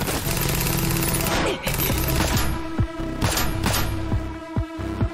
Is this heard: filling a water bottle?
no